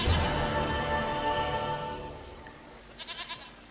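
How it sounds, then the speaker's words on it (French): A goat in The Witcher 3 gives one drawn-out, wavering bleat that fades, followed by a few brief bleats near the end. "Voilà, j'ai retrouvé ta putain de chèvre."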